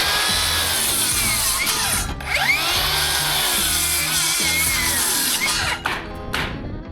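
A power saw cuts through a row of wooden roof truss tails on a large home's roof framing, a loud continuous whine that dips and surges with each cut, running nearly the whole time with no talking.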